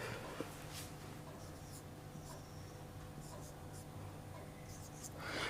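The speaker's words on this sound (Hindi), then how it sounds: "अब मैं इनमें नंबर लिखूंगा" Pen or marker scratching steadily across paper as numbers are written onto hand-drawn dice, a soft close scribbling under a low background hum with faint breaths.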